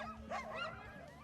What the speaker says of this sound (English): Please join me in welcoming the lead dogs, Frenzy and Chrome, who will be taking this beautiful team down Main Street in Fort Kent